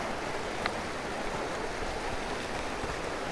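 Valarea river water rushing steadily beneath a small footbridge on a forest trail, a continuous broadband wash of stream flow with no pauses, fairly close and even throughout.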